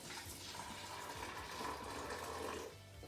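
Hot water is poured into a pouch of liquid malt extract while brewing a Mangrove Jacks New Zealand Pale Ale kit, a soft continuous splashing pour that runs for nearly three seconds and then stops.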